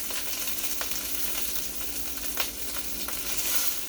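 Vegetable wedges go into a hot pan for a shrimp tikka masala and sizzle steadily, a dense frying hiss with a few soft clicks from pieces landing, close up and continuous.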